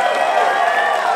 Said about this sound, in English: Clap it up for Reefers by Sublime,